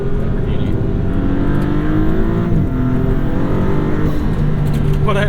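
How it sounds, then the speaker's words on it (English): A 2022 Maserati MC20 engine drones close and loud as the gearbox downshifts, with the pitch stepping and blipping between gears and talk likely running under it. "Listen to these downshifts."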